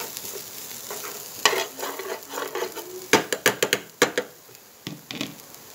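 Onions and green chillies frying in a pan for village-style paneer paratha, a soft steady sizzle broken by loud clattering scrapes and knocks as a spoon stirs them, coming in quick irregular bursts.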